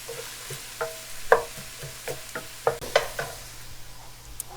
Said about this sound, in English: the onion is simmering happily with our meat